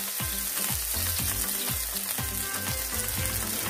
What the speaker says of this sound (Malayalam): നമ്മുടെ എണ്ണ ഇവിടെ തിളച്ചിട്ടുണ്ട്. ഫസ്റ്റ് നമ്മൾ അതിനകത്തേക്ക് നമ്മുടെ കറിവേപ്പില ഇട്ട് കൊടുക്കാം.